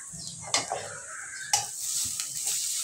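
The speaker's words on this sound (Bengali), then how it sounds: "আমি নারকেল কোড়া দিয়ে আরেকটু ভেজে নিচ্ছি" Onion fries with grated coconut in a pan, a quiet sizzle under a spoon stirring and scraping, with two sharp clinks of metal on the pan.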